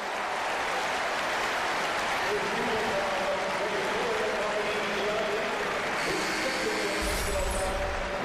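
Basketball arena crowd cheering and applauding after a foul in a Boston College versus Virginia game, a steady loud roar of many voices throughout with commentators talking over it.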